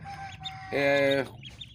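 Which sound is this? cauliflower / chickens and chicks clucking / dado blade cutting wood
chickens and chicks clucking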